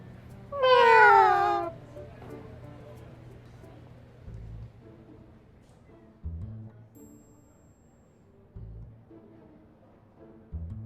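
One loud, clear cat meow from the video game Love and Deepspace rings out near the start, followed by quiet stretches broken by a few soft, low thuds.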